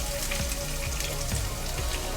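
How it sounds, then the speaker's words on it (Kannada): Mustard and cumin seeds splutter in hot oil, giving a dense, continuous crackle of tiny pops like rain on a surface, close and even throughout. "ಸಾಸಿವೆ ಸಿಡಿತಾ ಇದೆ"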